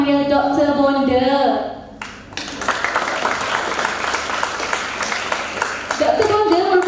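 An audience at a women's technical entrepreneurship forum breaks into sustained, dense applause after a voice speaks briefly; the clapping stays loud for several seconds before speech returns near the end.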